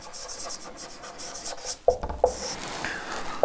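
Marker or chalk scratches and taps against a board during a chemistry lecture, soft scraping strokes with a few sharper knocks, close and fairly quiet.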